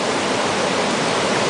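Small camping stove burning steadily while heating water outdoors, giving a constant loud broadband roar with no breaks and no voices.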